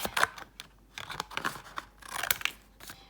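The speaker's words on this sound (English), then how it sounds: "now I'm going to tear my page out and I'm going to cut out this butterfly" A paper page being torn out of a junk journal in a run of crisp ripping and crinkling bursts, close and fairly loud with short pauses between pulls.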